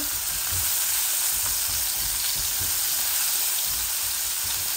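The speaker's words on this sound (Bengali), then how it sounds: "তো আমি রসুনটা দিয়ে দিচ্ছি প্রথম।" Steady, close sizzling of garlic frying in hot oil in a pan, a continuous crackling hiss with soft faint stirring underneath and no voices.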